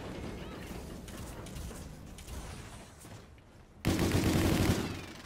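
Gunfire in Call of Duty Infinite Warfare rattles steadily as a distant fusillade, then a much louder, closer burst of automatic fire cuts in near the end and keeps going, with no talking.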